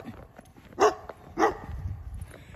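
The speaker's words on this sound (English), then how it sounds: "There's Colt over there barking." A dog in a neighborhood barks twice, two sharp, fairly close woofs spaced about half a second apart over light outdoor background noise.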